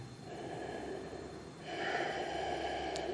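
Slow, deep breaths through the nose while holding a seated yoga twist, a soft airy inhale-exhale rising in strength midway, heard close in a quiet room with a faint background hum.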